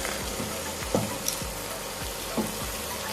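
Spicy chicken kosha frying in a pan, a steady low sizzle broken by a few soft stirring scrapes and clicks, close and moderately loud with no talk.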